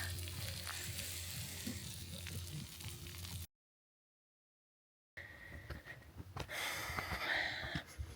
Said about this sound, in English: It's steak, broccolini, and veggies on the fire.